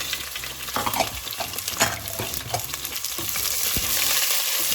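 Sliced onions sauté in a pan for a potato curry, a steady close sizzle broken by the scrape and clatter of stirring.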